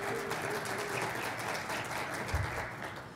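Audience applause at a cybersecurity conference talk, welcoming the speaker on stage: a steady wash of clapping from a crowd that fills the whole stretch at a moderate, somewhat distant level.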